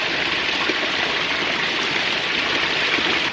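Water pours steadily over a wooden micro hydro intake, a constant close broadband rush with no breaks or changes in level throughout.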